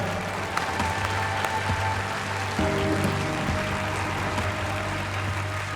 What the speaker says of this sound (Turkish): kuvvetli alkış daha lütfen.